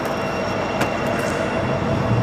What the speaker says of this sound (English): this coal load is just pulled to a stop right here in town